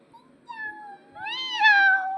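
A child imitates a cat's meow with two drawn-out mews, the second louder and longer, in a quiet room.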